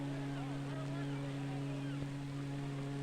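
Tanker ship moving slowly along a river, its engine giving a steady low hum with constant tonal drone, under faint wind and water noise.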